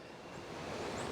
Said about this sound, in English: we're down here at the bottom, and we're right up near the falls